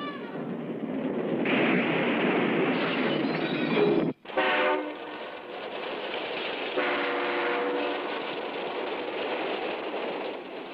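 A passenger train rolls by on railroad tracks with a steady, loud rumble and clatter, a brief sharp gap midway, then continued wheel noise and some tonal ringing as the cars keep passing.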